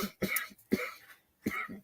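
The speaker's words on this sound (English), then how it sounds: "Fuck that cough." Three short, harsh coughs in a row, close and fairly quiet, separated by brief pauses.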